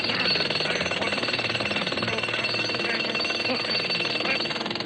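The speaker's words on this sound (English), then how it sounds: "I'm going to etch my name in the back of your head with this jackhammer." A jackhammer hammers continuously in a dense, loud, rapid rattle that holds steady without pause for the whole stretch, with no talking over it.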